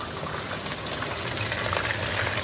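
Chicken frying in hot oil, a dense steady sizzle and bubbling hiss that fills the whole stretch evenly and loudly, with no voices over it.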